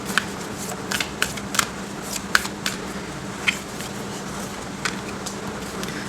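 Tarot cards being shuffled, heard as scattered quick papery snaps and flicks, fairly faint against a steady low room hum, with no talking.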